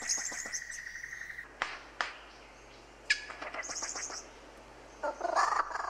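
A Prince Albert's lyrebird in Australia runs through mimicked songs of other birds: sharp whistled notes, rapid clicking trills and a burst of warbling phrases, clear and close with brief pauses between calls.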